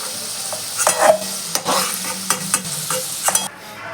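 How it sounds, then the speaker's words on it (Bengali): Potatoes fry in mustard oil in a wok, with close, loud sizzling broken by repeated scraping spatula strokes that stop abruptly near the end. "আলুটা লাল করে ভাজা হয়ে গেছে এবার আমি একটা বাটিতে নামিয়ে নিচ্ছি"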